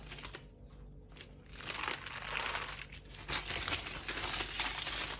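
Baking paper crinkles and rustles loudly as flat apple pie top pastry is lifted off it, a continuous close crackling with sharper crunchy bursts and no talking.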